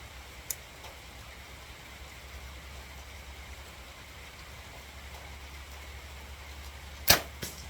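Arrows thudding into a used Athens Peak 38 3D archery target outdoors: a sharp, loud impact near the end followed by a smaller knock, over a steady low background hum.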